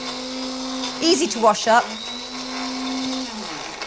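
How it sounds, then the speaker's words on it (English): A stick blender whirs steadily in a kitchen, its motor pitch dipping and rising as it chews through food, while a person speaks briefly over it partway through. "I just use this stick blender"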